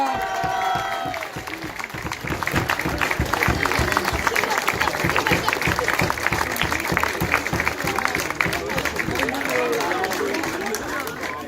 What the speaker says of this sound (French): Allez, on les applaudit encore.